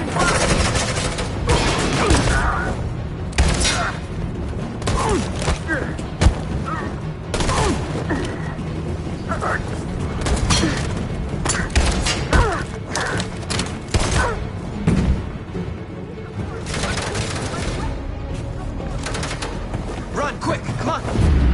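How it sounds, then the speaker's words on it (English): Suppressing gunfire rattles through a battle in the video game Detroit: Become Human, with dense bursts of shots, thuds and booms over the whole stretch and urgent voices shouting over the fighting. "Suppressing fire!"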